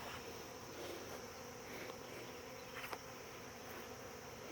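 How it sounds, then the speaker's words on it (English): Honey bees buzzing around a beekeeper collecting a swarm, a faint, continuous droning hum with occasional closer passes, no voices. "The bees are landing all over me."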